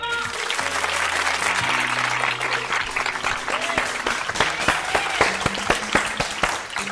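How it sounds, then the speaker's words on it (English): A church or hall audience applauds warmly in honour of a speaker, steady dense clapping filling the whole stretch with a few sharper individual claps standing out near the end and faint background voices. "Let's give him another clap"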